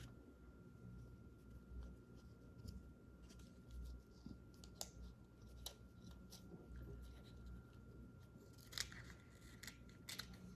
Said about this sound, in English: So I'm going to take a pair of scissors